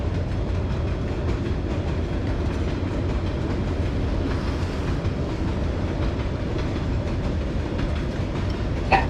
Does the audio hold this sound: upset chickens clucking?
no